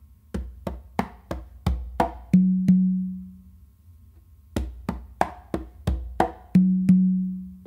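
A full Songo pattern played on two congas, with quick muted taps and slaps leading into two ringing open tones. The phrase is heard twice, close and clear, with a short gap between the repeats.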